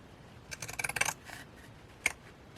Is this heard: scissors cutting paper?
yes